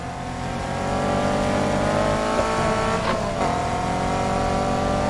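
A car races in Need for Speed Heat, its engine droning loud and steady as it revs through gears, with a brief tire squeal partway through.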